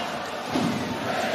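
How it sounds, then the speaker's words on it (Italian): Ambrì hockey fans in an arena sing La Montanara together at an ice hockey game, a dense crowd chorus with a rising wave of voices midway, sustained and reverberant throughout. "come nell'occasione di festa a cantare la Montanara"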